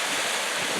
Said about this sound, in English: The water goes by pretty quick.